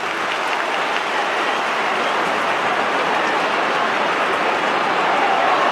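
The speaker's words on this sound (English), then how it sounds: "in front of a Richmond cheer squad at the punt road end who are howling" Richmond cheer squad at the Punt Road end of a football ground roaring and howling, a dense, loud, unbroken crowd wash filling the whole stretch.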